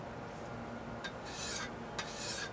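A tool's edge is sharpened with light passes, giving short rasping strokes, three or four in a row, each a soft scraping rub with quiet pauses between.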